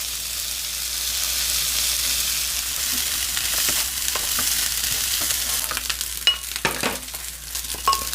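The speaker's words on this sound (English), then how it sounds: "So now is where we're going to add our cold refrigerated rice." Cold refrigerated rice fries in a pan for fried rice with pineapple and Spam, a steady close sizzle that keeps going throughout, with occasional stirring scrapes and clicks near the end.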